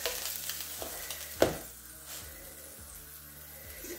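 Dough cooking in a pan over medium heat, a steady soft sizzle with a sharper clatter from turning it partway through, close and fairly quiet, no talking.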